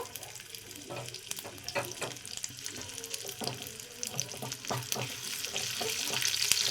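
Chopped ginger fries in ghee for a kabuli chickpea dish, a quiet crackling sizzle broken by repeated scraping strokes of a spoon stirring in the pan, with no talking.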